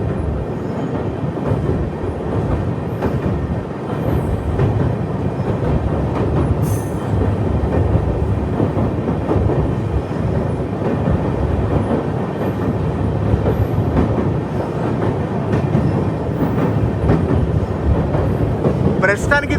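A train rolls across the Pamban sea bridge, a single-line rail crossing about two kilometres long with a vertical lift span, giving a loud, steady rumble of wheels and carriages that continues unbroken throughout.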